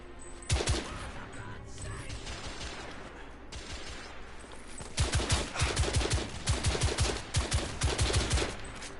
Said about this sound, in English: Switch to my main machine gun here.